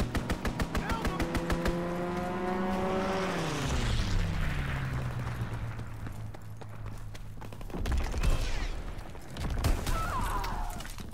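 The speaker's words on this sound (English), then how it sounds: "Fighter aircraft ready. Call for a strafing run." Fighter aircraft strafing run in Call of Duty WW2, with a roaring engine sweeping downward in pitch as the plane passes, over a burst of rapid machine-gun fire and continuing battle noise.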